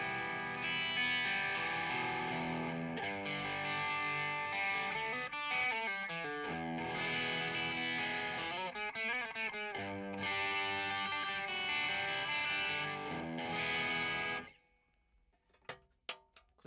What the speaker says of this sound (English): today I am going to demo this Okko Diablo pedal